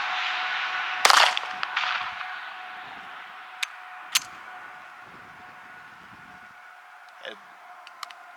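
A Beretta .32 ACP pistol fires a few light, sharp shots, one louder crack first and then a few quieter pops spaced out over several seconds, with faint background noise between them.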